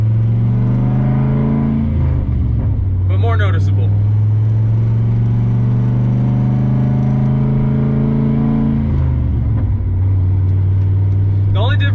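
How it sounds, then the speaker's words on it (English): A straight-piped turbocharged Pontiac GTO engine drones loudly and steadily up close, its deep tone swelling slightly at a couple of points, while someone talks over it. "I know I really like my long tube header sound, so the turbo sound is quite a bit different"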